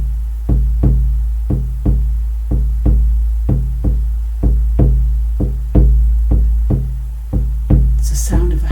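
Steady, evenly spaced deep drum hits in a slow heartbeat-like pulse, each a loud low thump with a short decay, continuing alone throughout before a brief voice at the very end.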